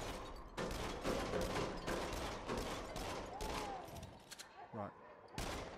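Rapid gunfire from the VR shooting game Until Dawn: Rush of Blood, with repeated bursts of shots in a steady barrage over a loud game soundtrack, and a voice briefly heard.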